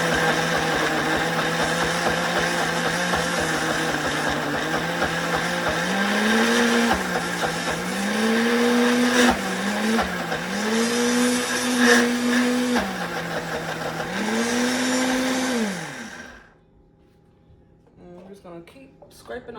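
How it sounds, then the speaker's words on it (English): A food processor whirs steadily as it blends basil pesto into a paste, its motor pitch dipping and rising in repeated pulses for about sixteen seconds before cutting off abruptly, leaving faint clatter and quiet. "You just want to keep processing it until you get, you know, a pasty consistency."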